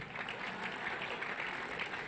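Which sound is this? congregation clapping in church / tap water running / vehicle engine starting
congregation clapping in church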